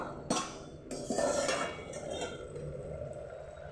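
A lid is lifted off a pan of simmering prawn and potato chorchori on a low gas flame, giving a single near metallic clink and scrape, then a soft steady bubbling hiss.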